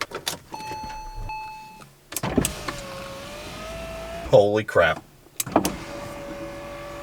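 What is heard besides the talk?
Porsche 996 Turbo power window moving up and down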